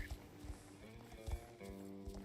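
Hooves clip-clop at a horse show in a video game, quiet rhythmic thuds beneath a steady bed of music and game sounds, with voices talking over them.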